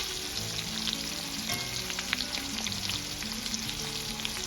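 Ribeye steak pan-searing with onion powder, garlic powder and garlic, a steady close sizzle and crackle of frying fat that runs unbroken throughout without any talk.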